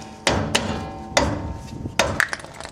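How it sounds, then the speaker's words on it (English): A rubber mallet strikes a surge-style trailer brake part back and forth to work it loose, giving several close, irregularly spaced thuds with short pauses between them. "you just take your rubber mallet and go back and forth several times, and it starts working its way loose"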